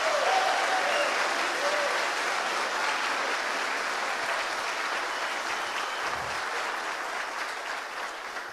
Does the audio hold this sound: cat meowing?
no